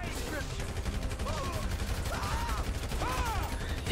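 Dense gunfire rattles through a GTA V street fight, bursts layered over a loud game mix while voices shout and call out near the mic.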